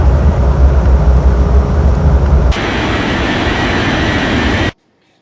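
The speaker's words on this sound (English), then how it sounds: "Southwest 2407, cleared for takeoff runway 17, left." A Southwest airliner taking off from runway 17 left in an air traffic control video game, a loud, steady engine roar that changes tone midway and then cuts off abruptly.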